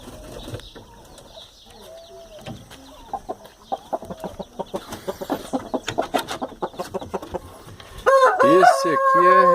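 Young roosters around nine months old, one of them moulting, give a run of quick rhythmic clucks that build up, then a loud close crow breaks out at the end.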